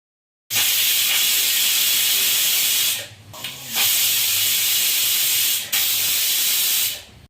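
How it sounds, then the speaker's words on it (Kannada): A pressure cooker on a medium flame hisses and whistles steadily and loudly, with two brief dips near the middle and one short break later before the steam returns. "ಈಗ ನೋಡಿ ಮೂರು ವಿಜಲ್ ಕೂಗಿಸ್ಕೊಂಡಿದ್ದೀನಿ"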